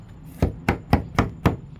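Tongue and groove subfloor panels on an insulated shed floor being hammered together, struck through a cutoff piece: five sharp, evenly spaced wooden knocks about a quarter second apart, close and loud, no talk.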